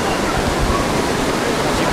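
Sea water surging up onto the shore at La Zenia on Spain's Costa Blanca, a steady loud wash of broadband surf noise filling the whole clip, close to the microphone.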